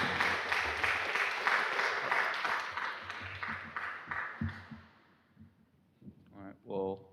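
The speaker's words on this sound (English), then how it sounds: "let's give him a warm welcome and round of applause" An audience at a young adult meeting applauds to welcome a speaker, a dense burst of clapping that fades out over several seconds before a voice begins speaking.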